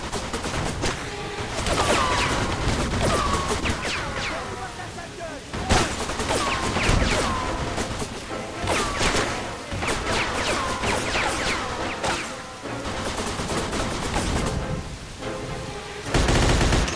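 Sustained gunfire fills a Mafia 2 PC firefight, with rapid bursts of automatic shots and repeated loud cracks over a dense battle din, close and intense throughout.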